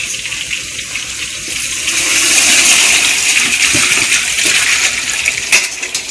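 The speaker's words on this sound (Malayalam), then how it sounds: "നമുക്ക് ഈ സവാള വഴറ്റിയതിലോട്ട് ഈ വെള്ളം ഒഴിച്ചു കൊടുക്കാം." Water pours into a hot pan of sautéed onions for chicken mandi, a loud rushing gush that swells after the first couple of seconds and holds steady, close up with no voices.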